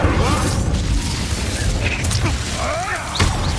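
Incendio fire spell cast in Hogwarts Legacy, a loud whooshing, roaring burst of magical fire with swooping tonal effects and a few sharp cracks over a dense low rumble, continuous throughout.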